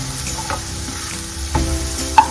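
Cabbage stir-fried in a pan for Sikkimese veg phaley filling, a steady low frying hiss broken by a few sharp spatula scrapes and clinks, close and alone without talk.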